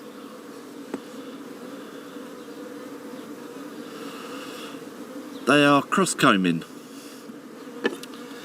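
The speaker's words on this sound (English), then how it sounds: "You silly bees!" Honeybees buzz continuously at an open top bar hive during inspection, a low steady drone that carries on while someone speaks briefly partway through.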